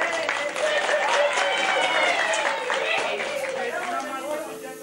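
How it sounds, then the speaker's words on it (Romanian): Guests at a religious wedding ceremony clap steadily throughout, mixed with crowd chatter and voices. "mă puteți aplauda."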